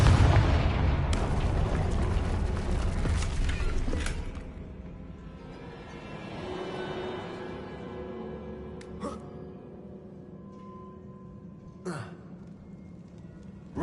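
Confringo explosion spell in Hogwarts Legacy, a loud fiery blast with rumbling debris that fades after about four seconds into quieter ambience, followed by a couple of sharp later impacts.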